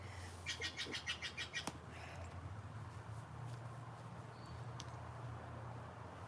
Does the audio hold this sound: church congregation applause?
no